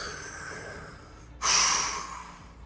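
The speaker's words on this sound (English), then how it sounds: "Did you hear that breathing?" Heavy breathing during a Path of Exile game session: a single sharp, forceful exhale or snort-like breath bursts out midway, loud and close, over a steady low background hum.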